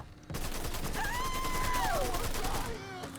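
Gunfire from the video game Mafia 3 on PS4/PS5 during a drug-operation mission in the French Ward, a steady loud burst of shots lasting nearly three seconds under a dense mix of game sound effects.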